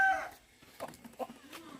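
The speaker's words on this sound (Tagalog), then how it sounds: "Yung mga manok natin nakakalat" Farmyard chickens wandering loose near their coop, giving a few soft, scattered clucks and short calls, fairly close but quiet against a still background.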